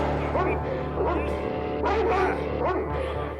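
A dog barks and yips repeatedly, close and agitated, over a steady low hum, with whimpering between the barks.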